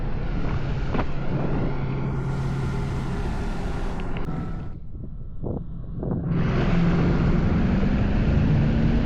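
A heavily loaded 2008 Malibu Wake Setter 23LSV wake boat engine roars steadily under heavy load, with wind buffeting the microphone; the drone dips briefly midway, then surges back loud.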